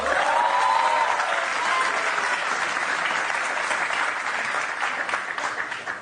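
A live audience bursts into loud, sustained applause, dense clapping that fills the whole stretch and only thins slightly toward the end, with a brief voice at the very start.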